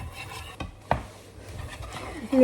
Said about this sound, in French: Regardez comment je vais mélanger le cinnamon rolls